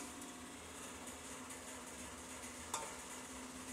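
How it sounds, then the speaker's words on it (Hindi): Homemade desi ghee sizzles steadily as it hits hot oil in a pan while cooking Bombay-style pulao, a constant frying hiss with one brief sharper crackle near the end. "साथ ही हम थोड़ा सा देसी घी भी शामिल करेंगे इसमें।"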